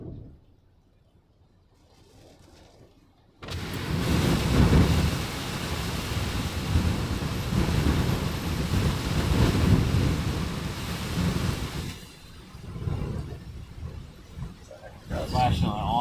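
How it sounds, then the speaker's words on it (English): Strong Hurricane Helene wind gusts roar at Cedar Key, Florida, in the outer band of the storm, a loud sustained rush of wind and rain noise buffeting the microphone for most of the stretch before easing, with a person talking at times. "We're right in the strongest winds of this part of the outer band."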